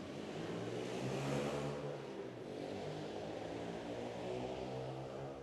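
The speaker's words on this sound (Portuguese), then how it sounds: "A motocicleta barulhenta não deixou eu escutar." A noisy motorcycle passes by, its engine droning steadily for several seconds with a louder swell near the start, no voices over it.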